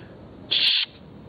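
An owl gives a single short call over a steady low background hiss, loud and close for under half a second before the quiet returns, with no voices.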